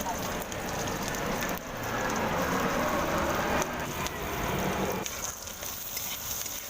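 Chilli and garlic tempering sizzles steadily in hot oil for fish cooked outdoors at a family picnic, a dense continuous crackle with brief dips around the middle and near the end.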